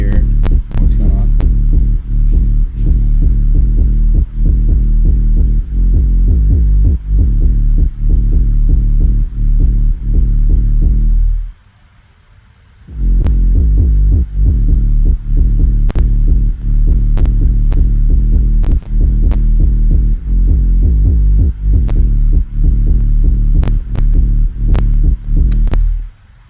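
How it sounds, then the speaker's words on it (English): A soloed sub bass synth built from a basic sine wave with a little white noise plays as a loud, deep, throbbing low tone in a repeating pulsing pattern. It drops out briefly near the middle and then comes back. "real basic sine wave, a little bit of white noise"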